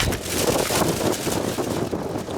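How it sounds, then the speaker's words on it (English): Steady wind buffeting a microphone, a broad continuous roar with gusty swells and rustling, loud throughout with no voices. "it's pretty windy today"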